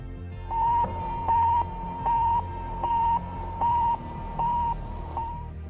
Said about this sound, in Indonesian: Sputnik memancarkan gelombang yang bunyinya seperti ini